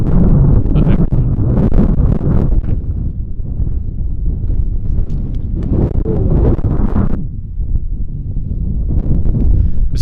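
Gusty wind buffets the microphone outdoors during drone filming, a loud continuous low rumble that surges and eases in waves across the whole stretch.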